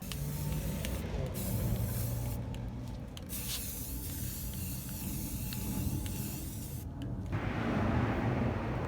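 Aerosol spray paint hisses onto metal chairs and frames in several short, separate bursts, fairly close but quiet over a low background rumble, with no talking.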